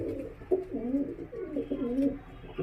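A domestic pigeon of the Cheena or Shakha breed coos close by in a soft, low, rolling warble, with several throaty rising and falling phrases repeating in quick succession.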